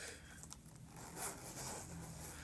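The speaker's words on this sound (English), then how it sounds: "I love a good zipper." A zipper on a pen pouch is drawn in soft, close, scratchy runs, quiet against faint room noise.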